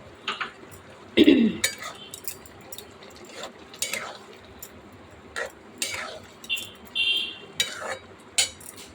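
A spoon scrapes and clatters against a pot while mixing poppy seed paste into cooked gourd and potato, giving repeated irregular metallic clinks and stirring scrapes.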